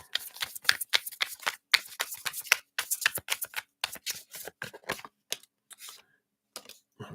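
Tarot cards are shuffled up close in quick, crisp riffling bursts of rapid clicks and flutters that pause, restart and trail off into a few last taps, with no talking.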